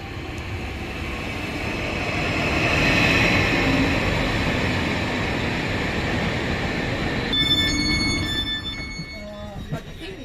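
Interior of a train departing Madrid for Basel, with a steady low rumble of the carriage rolling along the rails throughout and some higher tonal whine toward the end.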